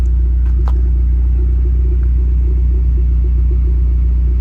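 A tuned Mazda MX5 fitted with a carbon boot and wide arch kit, its engine idling with a steady, loud low rumble throughout, close by and with no talk over it.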